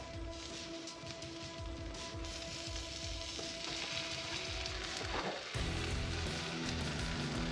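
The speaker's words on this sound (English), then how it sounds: "we're gonna put some bread in this pan. Let that start toasting up." Bread frying in a buttered pan gives a steady, loud, close hiss with crackling spatter that swells a little partway through. Nobody talks over it.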